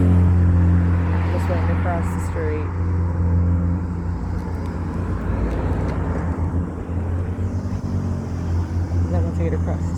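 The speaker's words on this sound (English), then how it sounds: "A lot of traffic here." Busy street traffic with a steady low rumble of passing vehicles running throughout, fairly loud and close, under someone talking.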